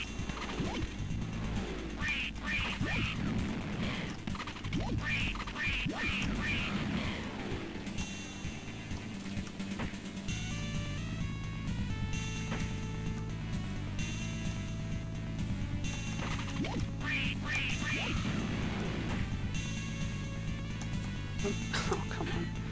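Cartoonish ducks quack and yip from the kart-racing game Wacky Wheels, repeated bursts layered over continuous game music and engine hum.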